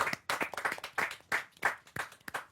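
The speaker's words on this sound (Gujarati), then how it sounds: "જોરદાર તાળીઓ સુરત અને કરંટ બંને માટે" A small group claps together, the applause coming in uneven bursts and moderately quiet, with no voices over it.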